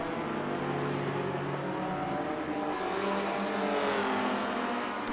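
Race cars run continuously on a circuit in a sim racing round, engines droning steadily at moderate distance with overlapping tones and no clear single pass-by, and no one talking.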